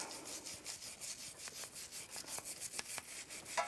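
Sandpaper scrubbing rust from the pad slide surfaces of a Toyota 4Runner brake caliper, quick back-and-forth rasping strokes in a steady rhythm, close and fairly quiet.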